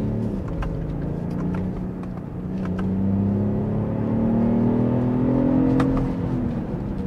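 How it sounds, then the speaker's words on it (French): A BMW X1 30e three-cylinder engine accelerating in sport mode, a steady interior drone rising in pitch through gears with smooth, continuous pull and no talk. "J'ai l'impression de conduire un 6 cylindres en ligne. On est sur un 3 cylindres les amis."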